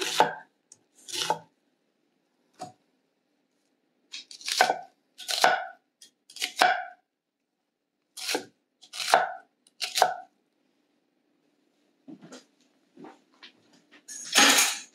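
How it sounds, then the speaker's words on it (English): Knife chopping tomatoes on a board in irregular bursts of quick chops, separated by short pauses, close and fairly loud with no talking. "we're just going to chop this up into nice pieces for a tomato stew"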